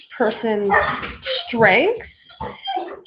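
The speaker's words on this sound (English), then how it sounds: "Sorry, that's the dog in the background." A household dog barks and yips in the background, a few short sounds mixed under continuous close speech from a person talking throughout.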